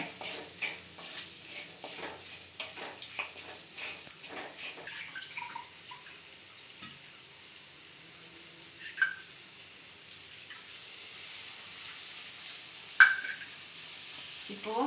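Large onions fry in a pan for chicken gravy with a soft steady sizzle and stirring scrapes, fairly quiet, with a couple of sharper clinks.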